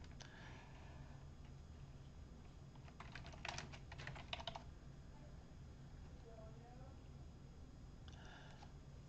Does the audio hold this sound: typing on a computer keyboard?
yes